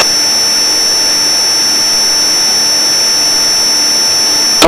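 Steady turboprop drone inside the cockpit of a Pilatus PC-12 in flight, a loud, unbroken engine roar with a constant high whine, ending in a brief rustle.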